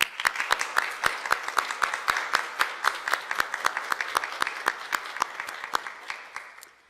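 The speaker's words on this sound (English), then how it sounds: "I think a round of applause is in order." Steady applause from a crowd at a college white coat ceremony, with several sharp individual claps standing out in a regular rhythm, continuing for about seven seconds before thinning out.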